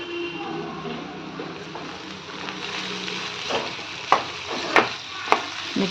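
Spiced filling for rolls, seasoned with chili powder and coriander powder, fries in a pan with a steady close sizzle, joined in the second half by a few sharp scraping stirs of a spoon.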